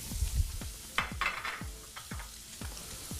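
About a cup of onions sautéing in two tablespoons of butter in a pan, stirred in a steady rhythm of close scraping strokes over a light sizzle; no voices.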